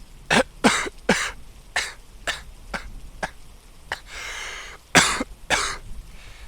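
A run of about a dozen harsh, throaty coughs, close and loud, coming in uneven bursts with brief pauses between them.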